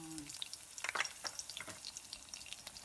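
Something frying in a pan at home, a soft, uneven crackle and sputter with scattered pops, fairly quiet and close, no talking.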